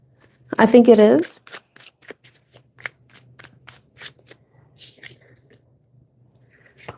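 Tarot cards are shuffled by hand in a series of crisp riffling flicks and soft taps close by, with a brief voice at the start.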